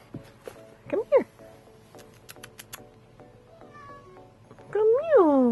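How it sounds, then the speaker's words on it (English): A pet cat meows indoors, a few short chirping mews followed by a longer, louder drawn-out meow at the end, amid light household rustling and close tapping sounds. "my cat Azriel has decided to make an appearance"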